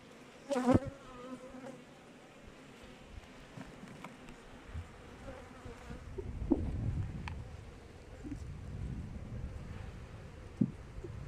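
Steady low buzzing of Carniolan honeybees fills the clip, swelling in the second half, with a few brief knocks and rustles near the start.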